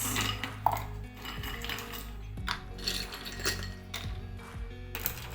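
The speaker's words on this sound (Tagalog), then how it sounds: "So, lagyan natin ng ice." Ice cubes drop into a pitcher of cucumber lemon iced tea, making close clinks and rattles in uneven bursts with no voices.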